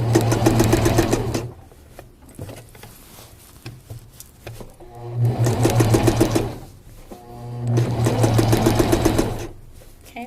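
A sewing machine stitches fabric held under the presser foot, running in three steady bursts separated by brief pauses, close and fairly loud.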